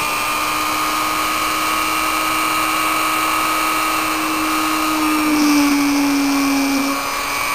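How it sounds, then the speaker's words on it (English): A small electric drill whines at its slowest speed, its pitch dipping slightly near the end as it bites through a doll's head to pierce an ear hole. "I'm just gonna choose my spot and very gently drill the hole"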